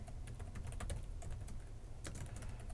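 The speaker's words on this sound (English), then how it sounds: "where we can start typing a little bit of context as a comment" Keys clatter on a computer keyboard in quick, uneven bursts of clicks at close range, with a heavier tap near the end and no speech over it.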